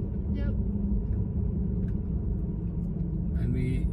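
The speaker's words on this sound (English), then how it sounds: "we need to keep the car in low gears because it's going down, the road is climbing down" A car descending a mountain road in low gear between Kashgar and Tashkurgan gives a continuous low engine rumble and road noise from inside the cabin, with people talking over it.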